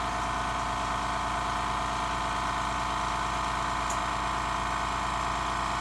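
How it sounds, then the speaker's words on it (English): An air compressor runs steadily and loudly beside an unboxing of an Axcel Driver Dovetail sight, giving a constant droning hum with a pulsing low throb and no pauses. "That would be my compressor, my air compressor."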